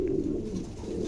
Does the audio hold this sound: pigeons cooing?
yes